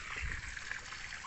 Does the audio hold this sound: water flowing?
yes